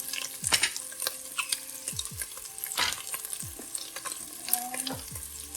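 Vegetables cook in a pot for Cajun tortellini soup with a soft, low sizzle broken by irregular spoon clinks and scrapes of stirring, fairly quiet and close.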